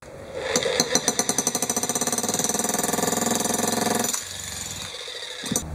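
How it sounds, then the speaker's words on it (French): A jackhammer in a video game rattles in a fast, steady burst of sharp hammering for about four seconds, loud and close, then cuts off into a low background hum. "Oui, j'ai bien dit le marteau-piqueur."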